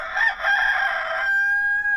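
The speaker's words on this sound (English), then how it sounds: "The cockerel." A rooster crows loudly and close by, one full cock-a-doodle-doo with a long, drawn-out final note.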